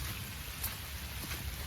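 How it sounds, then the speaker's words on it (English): Steady rain falls beside a public roadside ditch used for crawfishing, a soft continuous hiss of drops with no voices. "And it is raining again."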